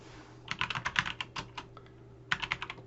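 Keys clacking on a computer keyboard while a Docker run command is entered, a quick burst of close keystrokes, a pause, then another short burst over a faint steady hum.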